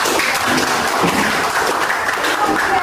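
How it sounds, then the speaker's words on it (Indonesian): Applause from a group in a classroom or workshop setting, steady and dense across the whole moment, with scattered voices mixed in. "Give applause for Naila and others"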